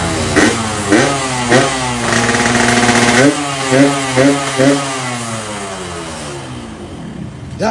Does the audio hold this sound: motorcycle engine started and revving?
yes